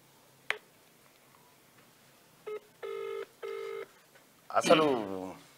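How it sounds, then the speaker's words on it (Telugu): Three steady telephone keypad tones, two of them sustained, sound after a short click as a phone call is placed; they stand clear over a quiet background, and a voice speaks briefly at the end. "ఒకసారి ఫోన్ కలుపు"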